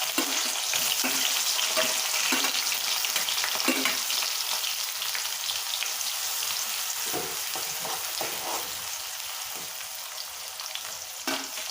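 Spices tempering and sliced onions frying in hot oil in a pan for a meal maker fry give a continuous close sizzle, with scattered crackles and pops throughout.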